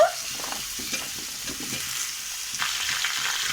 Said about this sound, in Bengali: এবারে আমি এখানে আলু দিলাম আর পেঁপে আগে কষিয়ে নেব